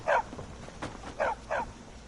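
Dog in the video game Skyrim giving short, sharp barks, four distinct woofs spaced unevenly over about two seconds, fairly close and clear against a quiet background.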